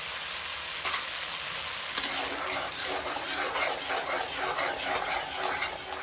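Turmeric and spices fry in a pan of hot oil for gosht, a continuous close crackling sizzle with a couple of sharp utensil taps near the start and no speech.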